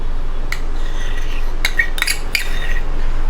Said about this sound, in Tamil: நல்லா ஸ்டீர் பண்ணிகிட்டே இருக்கணும்.